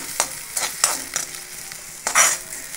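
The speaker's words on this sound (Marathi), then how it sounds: "त्याच्यामध्ये टाकला कांदा" Chopped onion dropped into hot oil for a Manchurian tempering, sizzling steadily with repeated scraping stirs of a spoon in the pan, close and fairly loud, no voices.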